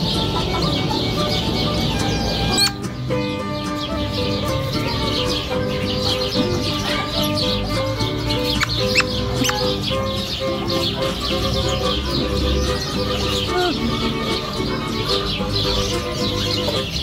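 Colourful chickens with long tails and combs at a petting zoo in Keçiören, Türkiye cluck and call repeatedly, close and loud, with overlapping bird chirps and a busy outdoor background.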